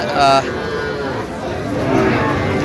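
Sahiwal bull calves low and moo at an outdoor cattle market in the rain, with a short loud call early on and a brief fainter moo later over constant crowd chatter.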